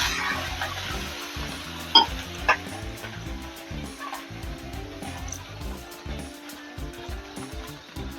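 Water hitting a hot oiled griddle while fasting dosa are prepared, a low steady sizzle with a couple of sharp clinks near the start, close by and without speech.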